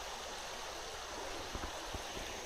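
A stream flows beside the Montour Trail, a soft steady rushing wash with a few faint nearby taps and no talk.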